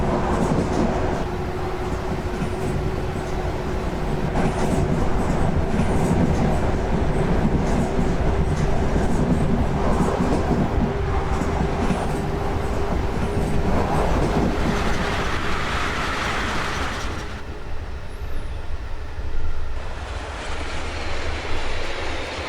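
BB26000 electric locomotive hauling a freight train in a train simulator game, a steady loud rolling rumble with track noise and a faint high whine, continuous throughout with a tonal shift near the end.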